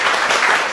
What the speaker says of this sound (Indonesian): tepuk tangan dulu untuk kayaknya